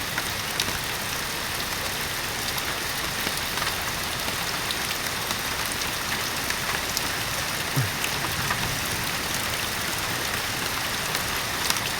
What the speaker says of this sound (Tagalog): Ngayong araw nito ay lunes yan po lakas ng ulan